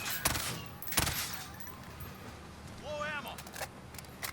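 FR 5.56 assault rifle fire in the Warzone video game: two short, loud bursts near the start, then quieter game sounds and a few faint clicks over steady background noise.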